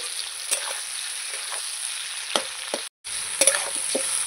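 Onion, capsicum and potatoes sizzle steadily in a hot pan while a utensil stirs and scrapes at intervals, the frying hiss constant and close with a brief dropout partway through.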